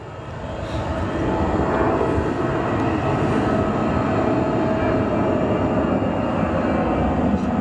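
A large passenger airliner rolls along an airport taxiway after landing, giving a loud, continuous low engine rumble and roar that holds steady throughout with no voices.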